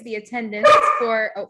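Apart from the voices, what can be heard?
dog barking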